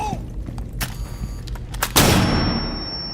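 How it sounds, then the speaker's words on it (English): A flashbang grenade detonates during Rainbow Six Siege gameplay, several sharp cracking shots followed by a loud bursting blast that decays into a lingering high ringing tone. "And there's that flashbang grenade."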